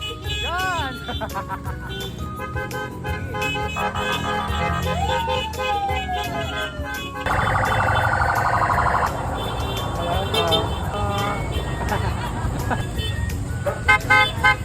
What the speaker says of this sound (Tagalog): Sir Gary, busina daw.